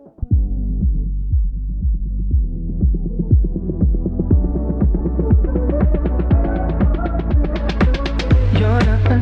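Music run through the Moogerfooger plugin's 4-pole filter: a pulsing, throbbing bass-heavy pattern whose sweeping filter gradually opens, getting brighter and buzzier over about nine seconds, loud and with no talking.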